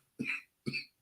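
Two sharp, close coughs from a man, about half a second apart, each a short harsh burst followed by quiet.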